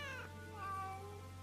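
A cat in the game Fate/Samurai Remnant meows twice, clear drawn-out calls close up over a low steady hum.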